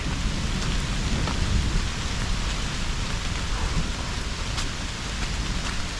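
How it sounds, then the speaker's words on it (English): Steady rain pours over the Appalachian Trail in Vermont during an August thru-hike, a dense, continuous hiss with occasional heavier drops close by and no voices. "Give me some hope that the rain's going to end, and it will."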